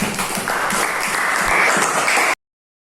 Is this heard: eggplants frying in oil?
no